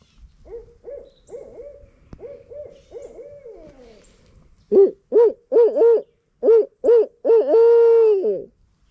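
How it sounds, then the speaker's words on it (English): An owl hoots loud and close in the Florida wilderness, first in softer, lower calls and then in a rhythmic series of strong hoots ending in one long drawn-out call. "They are an incredible owl and just the ultimate hunter."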